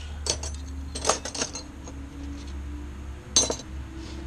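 Metal spoons, part of an antique scrap-yard haul, clink in a few short bright bursts as they are handled, close and fairly quiet, over a steady low hum.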